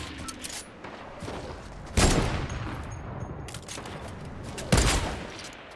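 Fortnite video-game sniper fire: two loud, sharp rifle cracks several seconds apart, each ringing off into a decaying tail over busy in-game sound.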